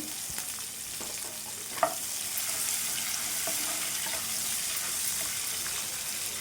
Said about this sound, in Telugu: ఇందులో ఒక 3 వరకు పచ్చిమిర్చి కట్ చేసుకుని వేసుకుంటాను.